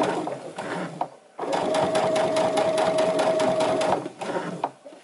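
A sewing machine stitches fabric for a soup bowl cozy, with short bursts and then a long steady run of rapid needle clatter, close and loud, ending in brief backstitch bursts.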